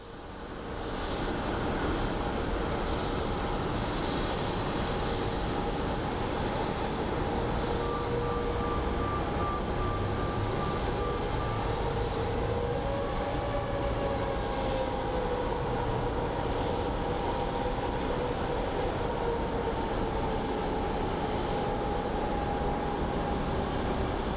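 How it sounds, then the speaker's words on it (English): Airplane at Phoenix Sky Harbor International Airport, heard as a steady, distant jet engine roar with a slowly shifting whine over a broad background rumble, no talking. "So for example, that's a plane we're filming."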